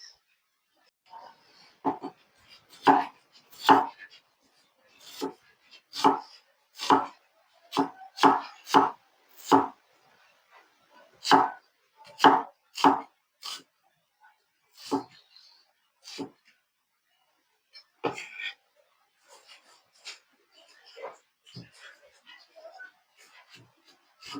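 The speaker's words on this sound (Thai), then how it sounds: "เดี๋ยวเราต้องหั่นพวกนี้เตรียมไว้ก่อน" Close, crisp knife chops on a cutting board in uneven bursts with short pauses, as herbs and onions are sliced.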